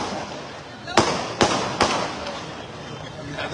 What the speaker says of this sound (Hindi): मैं पटाखे के बारे में बोल रहा हूं।